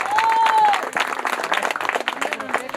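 An audience at a Telugu social drama stage performance breaks into a burst of clapping, a busy crackle of many hands. Someone talks over it on a microphone, and a brief whistling tone sounds at the start.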